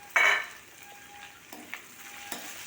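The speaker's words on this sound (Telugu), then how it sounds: "మధ్య మధ్యలో కలుపుకుంటూ బెండకాయల్ని ఫ్రై చేసుకోవాలి" Okra fries in a pan for a masala curry while being stirred, a sharp scrape and sizzle burst at the start followed by a quieter steady sizzle with a few soft spoon clinks.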